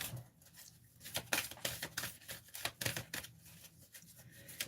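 A deck of cards being shuffled makes quick, faint riffling bursts of crisp clicks in an uneven rhythm, with no talk over it.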